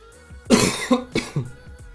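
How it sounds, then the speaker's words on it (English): Several sharp coughs from one person, close and fairly loud, in two main bursts with smaller throat-clearing sounds between them. No one speaks. "I'm really sorry for the coughs."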